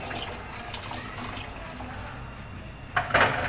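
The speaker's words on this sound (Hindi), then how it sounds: "देखिए मैं पानी ऐड कर रही हूँ" Water poured into a cooking pot for chana pulao, a soft steady splash and trickle that grows louder and brighter near the end, with no talking.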